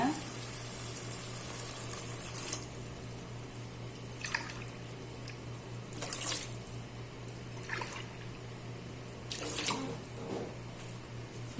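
Water splashes into a pot for ghee rice in several short pours, separated by pauses, with a steady low hum from a stove or appliance in the background.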